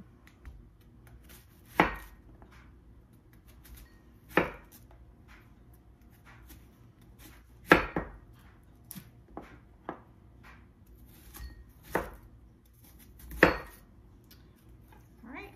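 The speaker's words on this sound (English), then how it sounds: "Next, we're gonna go ahead and we're gonna cut up an onion." A knife chops through an onion on a cutting board while fire cider vinegar is prepared: a sparse series of sharp, close thuds with uneven pauses, alone with no talking.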